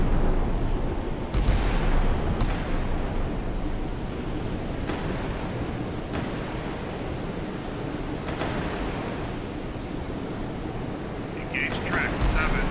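Naval guns on the warship Lloyd Thomas fire a salvo in a video game, several heavy booms spaced out over a continuous rumbling wash of sea and engine noise.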